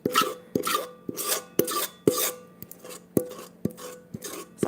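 A spoon scrapes the bottom of a mixing bowl in repeated, rhythmic rasping strokes, about ten close, fairly loud scrapes with no talking.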